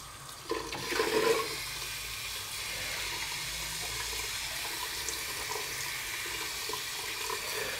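Tap water runs steadily into a sink while lard soap is rinsed under the stream, a constant hiss with a brief louder splash near the start and no speech.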